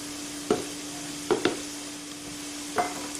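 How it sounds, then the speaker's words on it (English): Dry ingredients for whole wheat biscuits being stirred in a bowl, heard as a few soft scraping strokes at irregular intervals over a faint background hum. "So I put all the dry ingredients in first and then get them all incorporated."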